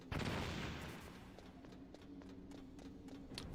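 A loud grenade blast in the Metal Gear Solid video game opens with a heavy boom, which fades into a rattling tail of scattered small clicks and debris.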